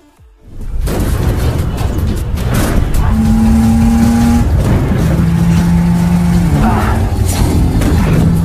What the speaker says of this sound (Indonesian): mobil trailer yang berisi mobil Bugatti klasik pun lewat